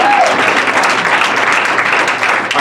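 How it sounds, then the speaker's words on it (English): A comedy-show audience at the Garde Arts Center applauds in a dense, sustained burst of clapping that fills the room evenly, with a brief voice at the very start. "Clap it up for fucking Oakland,"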